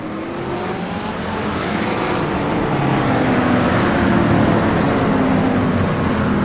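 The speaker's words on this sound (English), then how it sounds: "Basket weaving. Yeah, trying to get them tires warm up a little bit." A race car weaves to warm its tires at Hockenheimring, its engine a loud, continuous drone that builds slightly over the seconds with no break or speech.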